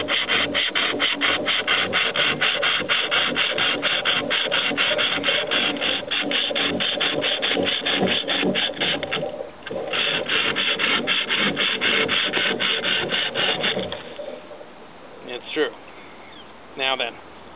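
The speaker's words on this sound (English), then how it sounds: "I'm letting the blade eat its way through." A wire saw blade rasps back and forth through mesquite wood in fast, rhythmic strokes that run for about fourteen seconds, then stop with a few light knocks.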